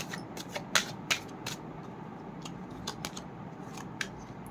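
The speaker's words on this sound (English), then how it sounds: "Let's pull out few more cards." Cards pulled one by one from a deck during a reading, giving soft, scattered papery flicks and slides over a quiet room tone, with no voice.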